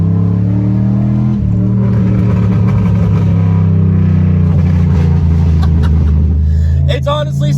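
A straight-piped LS4 5.3 V8 in a Monte Carlo rumbles loudly and steadily at close range with a deep burbling exhaust tone, then briefly shifts in pitch near the end.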